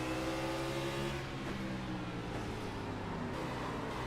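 Race car engine of the 96 car in iRacing at North Wilkesboro, a sustained loud harmonic drone that holds steady revs with slight pitch shifts, no talk over it.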